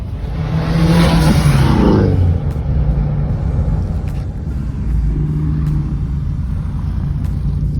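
A turbocharged Subaru STI leaving a car meet, a loud close rev that climbs and then drops away, followed by a steady lower engine rumble as it pulls off.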